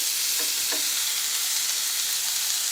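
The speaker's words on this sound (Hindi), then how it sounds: "पैन के अंदर मैंने थोड़ा सा घी डाल लिया है।" A little ghee sizzles in a pan with a steady, hissing frying sound, with a couple of faint soft taps near the start.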